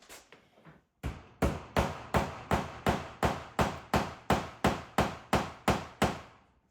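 Steady hammer blows drive cut nails into a wall, about fifteen evenly spaced sharp taps in a row after a few lighter starting taps.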